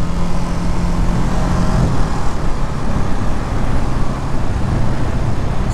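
A motorcycle cruising in sixth gear on a road, a constant low engine drone mixed with strong wind rush and road noise. There are no distinct revs or gear changes, only a steady, even roar.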